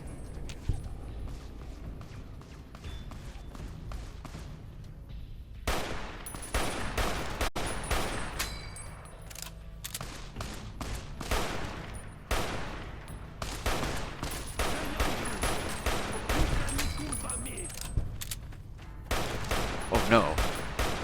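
Repeated gunfire from Fallout New Vegas: bursts of sharp shots and rapid volleys, loud and close, coming in clusters across the stretch with short gaps between them.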